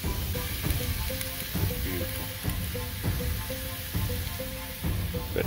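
Thick cut pork chops sizzle steadily on a Weber kettle grill, a loud, constant frying hiss up close with faint recurring ticks underneath, and no one speaking.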